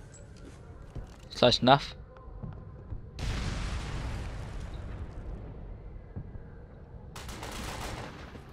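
A thrown grenade in Ghost Recon Phantoms detonates with a broad, rumbling blast that slowly fades, followed by another burst of noise later. A voice speaks briefly earlier, among scattered sharp game sounds.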